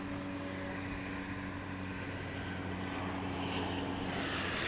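A fixed-wing airplane arriving at DFW International Airport, a steady distant engine drone with a low propeller-like hum, continuous and even throughout, no talking.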